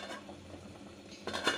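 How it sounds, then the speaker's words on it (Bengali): A metal lid clinks and settles onto a pot of fish curry, a soft scrape followed by a brief brighter clatter near the end, close by. "কিছুক্ষণের জন্য ঢাকনা দিয়ে দিচ্ছি যাতে মাছটা সিদ্ধ হয়ে যায়"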